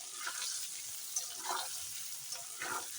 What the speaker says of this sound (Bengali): সব মশলা দিয়ে দিয়েছি এখন একটু দেখো সুন্দর ভেজে নিচ্ছি